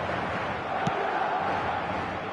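Stadium crowd noise in a football video game, a continuous dense roar of massed voices with a brief sharp accent partway through, filling the whole stretch at steady loudness.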